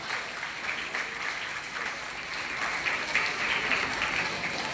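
A gathering in Dondapadu, Eluru claps steadily in birthday greeting for an artist. Even, moderately distant applause continues for the whole stretch without letting up.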